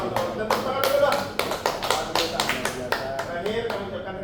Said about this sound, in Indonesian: Dan tepuk tangan dulu, Pak.